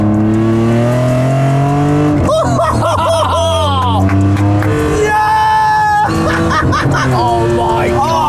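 A modified Alfa Romeo's engine roars and climbs in pitch as it accelerates on a B-road, loud and close, with excited voices and laughter breaking in over it.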